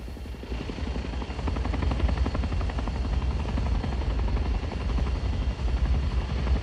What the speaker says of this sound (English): I wonder how we can take that helicopter down.